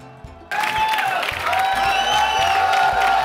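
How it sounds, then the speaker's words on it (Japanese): Apple store staff cheer, shout and clap in an excited burst before the doors open, the crowd noise surging suddenly after a quiet start and staying loud and close throughout. "Apple 班員工未開閘先興奮，又叫又跳又拍手"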